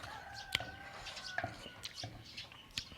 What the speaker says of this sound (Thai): เสียงนกเสียงไก่เสียงจิ้งหรีดอะไรนะคะ